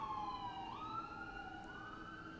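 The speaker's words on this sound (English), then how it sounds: "I'm gonna let the ambulance pass." Ambulance siren passing by outdoors, a faint wailing tone rising and falling at a distance over low road rumble.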